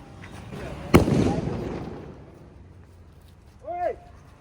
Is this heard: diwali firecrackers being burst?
yes